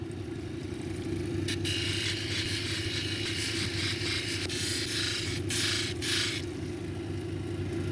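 A lapidary polishing machine with a 600 grit disc works a purple jade cabochon, giving a steady close motor hum with a grinding hiss that swells now and then as the stone is pressed to the disc.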